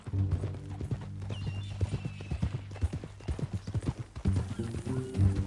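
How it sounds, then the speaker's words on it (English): Horse hooves clip-clop steadily at a walking pace in Red Dead Redemption 2, with a brief whinny and a low ambient drone beneath; a voice speaks quietly over the hoofbeats. "That a new horse?"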